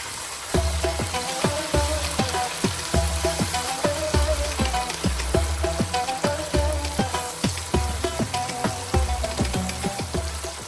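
Ginger garlic paste sizzling loudly in hot oil for Hyderabadi bottle gourd dalcha, a continuous close crackle broken by rhythmic, evenly spaced stirring knocks throughout, with no speech.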